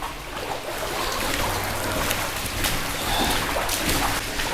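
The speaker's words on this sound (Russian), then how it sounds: "Паша, ты слышишь шум воды?" Steady roar of water from an underground waterfall echoing through a tunnel, a continuous broadband rush with no pauses and no voices over it.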